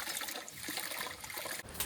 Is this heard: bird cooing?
no